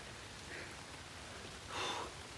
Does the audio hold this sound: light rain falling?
yes